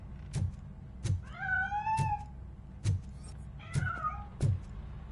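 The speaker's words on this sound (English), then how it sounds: "That cat must be hiding inside." A cat in the Robocop Rogue City video game meows twice in rising, drawn-out calls. Sharp percussive thuds or clicks recur about once a second around the meows.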